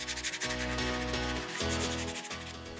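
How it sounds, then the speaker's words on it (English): Hand sanding the rebate cut into a wooden stair stringer: steady, continuous rubbing strokes, close and fairly loud, over a sustained tonal background. "I sand the rebate slightly by hand to get a better finish."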